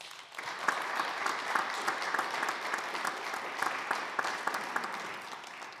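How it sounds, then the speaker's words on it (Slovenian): Audience applause at a Slovenian woodworking industry event, honoring two stilt performers from a theatre; steady clapping from a sizable crowd lasting several seconds, fading slightly at the end. "si prav tako zaslužita en velik aplavz"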